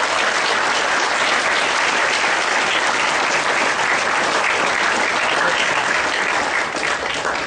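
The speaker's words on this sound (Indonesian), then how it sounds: "Tepuk tangan buat kalian." Loud, continuous applause from a school audience at a spiritual training session held at a senior high school in Sampang, an unbroken roar of clapping filling the whole stretch with no talk.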